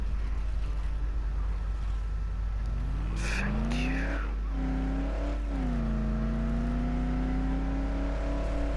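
Car engine in the video game Dead Island revving up while driving, a rising whine that climbs and holds steady with a brief dip and re-rev midway, loud over a constant low rumble.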